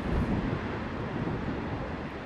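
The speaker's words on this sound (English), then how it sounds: "It's windy." Strong wind buffets the microphone in a steady, broadband roar with no voices, on a beach at Hope Cove with the tide out and big breakers coming in.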